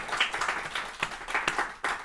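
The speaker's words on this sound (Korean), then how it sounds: "한 해 동안 지켜주신 하나님께 영광의 박수를 올려드리겠습니다." A congregation at a Korean Sunday worship service claps briefly, producing a quick run of uneven, moderately loud claps.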